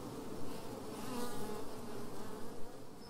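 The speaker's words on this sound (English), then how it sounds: "I'm working with the bees" Honey bees at a Greek Orthodox monastery in the mountains buzz in a steady, faint drone, a low continuous hum from a swarm with gentle swells and no voices.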